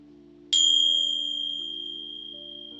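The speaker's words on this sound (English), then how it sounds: "are these Tibetan Tingsha bells that I'm holding." Tibetan Tingsha bells held in the hand and clashed together once: a sharp, high metallic chime that rings on and gradually fades, heard alone and close.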